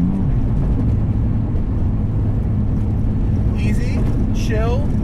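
RUF 996 RTurbo, a 515 hp Porsche 996 turbo, cruising in sixth gear with a steady low engine drone and road roar throughout, while a voice talks over it.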